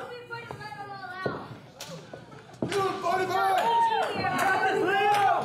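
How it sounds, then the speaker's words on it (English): A wrestling crowd in Fresno cheering and chanting at a live match, chatter swelling to a loud sustained roar in the second half, with a ring slam and an announcer talking over it. "Quite the mixed reaction from this crowd here in Fresno"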